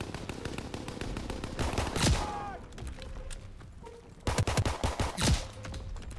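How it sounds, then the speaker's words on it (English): Pistol gunshots in Call of Duty: WW2 multiplayer: a rapid series of sharp close shots, then a quieter lull with scattered game noise, followed by another quick volley of loud cracks. "Takes 3 shots to kill him with this pistol."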